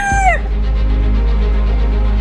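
A rooster crow or hen call cuts off at the start, then a farmyard fowl keeps up a low, steady clucking drone, close and loud, in the Vietnamese countryside.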